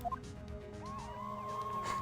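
Police sirens in the Phoenix Wright: Ace Attorney video game, a wailing tone rising and falling in repeated sweeps over a low rumble, sounding somewhat distant.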